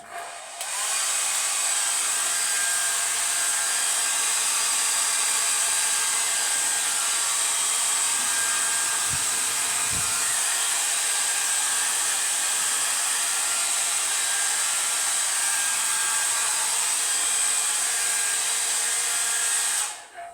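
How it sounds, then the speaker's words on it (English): A repaired hair dryer runs steadily on heat and blow, a loud, constant whirring airflow that holds almost unchanged from start to finish with no voices. "It's heating up and blowing as it should do."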